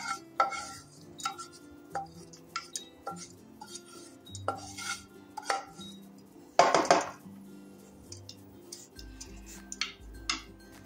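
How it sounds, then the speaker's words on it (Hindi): Roasted seeds being scraped out of a pan make a series of light metallic clinks and taps against the cookware, irregular and close, with one louder scraping rattle partway through. "बीज हमारे भुन गए हैं, अब हम इनको निकाल लेते हैं"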